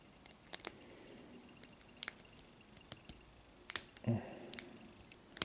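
Pins clicking inside a Yale Y121/40 lock being picked, heard as sparse, faint, sharp ticks spread across the stretch, with a slightly louder cluster of clicks and a brief scrape near the end.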